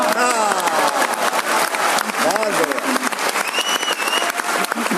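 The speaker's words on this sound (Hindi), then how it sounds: "हाथ उठाकर तालियां मारेंगे" A large crowd at a poetry event claps loudly and continuously, with voices and a cheer riding over the thick, rapid patter of hands.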